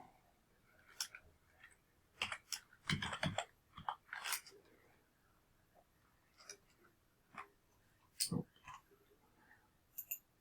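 Someone types on a computer keyboard while entering a spreadsheet formula in Excel. Sparse, irregular key clicks come in short clusters with quiet gaps between them, close up and fairly faint.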